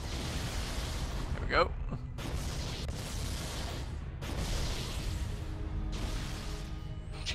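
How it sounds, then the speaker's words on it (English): Rumbling explosions in the video game Halo: Combat Evolved come in sustained bursts with short gaps, heard under a voice speaking. "The explosions will stop at some point"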